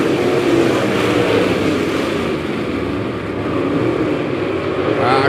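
Dirt late model race cars accelerating on a restart, a dense roaring pack of engines sweeping by loud and close with steady howling throughout, without distinct voices on top.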